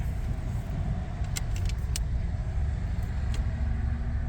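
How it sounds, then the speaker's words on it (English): A 1936 Packard V12 1407 Gentleman's Coupe drives along with a steady, close engine rumble and road noise, a few light metallic jingles and clicks scattered over it. "test drive a 1936 Packard V12 1407 Gentleman's Coupe"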